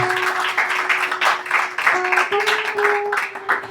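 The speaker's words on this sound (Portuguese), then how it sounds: "Palmas para o Senhor." A congregation claps for the Lord during a church prayer service, rapid scattered claps blending into steady applause, with sustained singing or organ tones running underneath.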